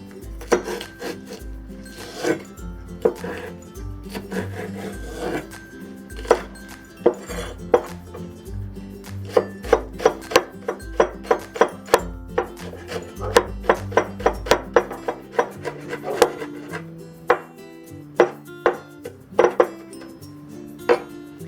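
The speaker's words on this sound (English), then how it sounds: "And we'll also mince the green onion." A knife mincing green onion on a wooden cutting board, rapid irregular chopping taps with sharp clicks, bursts and pauses, close and moderately loud with no talking.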